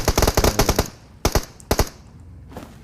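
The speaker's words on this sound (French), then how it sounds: "Pour voir qu'est-ce que ça peut faire là avec la M249." An M249 machine gun firing in PUBG Mobile: a rapid, loud burst of close shots, then two short bursts of a couple of rounds each, with a faint thud after.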